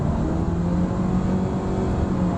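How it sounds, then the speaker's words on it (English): A 2014 Renault Megane 2.0 SE being driven, its engine held at high revs, gives a loud, steady drone heard from inside the cabin, with constant road rumble and no talking. "the car needs kind of revs actually to keep going, and that makes the whole ride very noisy"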